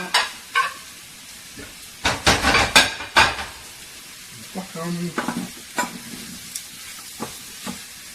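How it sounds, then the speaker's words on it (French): A spoon stirs and scrapes around a saucepan of simmering, sizzling food, with sharp clanks against the metal between quieter frying. "je passe assez souvent dans ma casserole pour vraiment bien mijoter"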